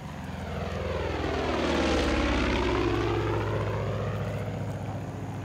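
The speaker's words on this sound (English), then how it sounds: "That's a friendly plane." In Far Cry 5, a propeller plane drones overhead, its buzzing engine swelling as it nears and then slowly fading, steady and unbroken with no speech.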